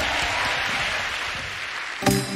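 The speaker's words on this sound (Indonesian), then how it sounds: "Tepuk tangan bagi Tuhan yang luar biasa." Congregation applause at an online church service, a dense rush of clapping that fills the whole stretch at steady strength, with a brief louder knock near the end.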